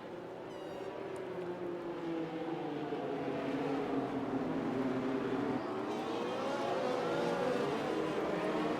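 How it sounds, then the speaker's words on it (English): Race car engines roar together in a racing video game as the field launches from the start into the first turn at Monaco, a dense, continuous drone with rising pitch under faint commentary. "Meanwhile, Dragon gets a very good start into turn 1."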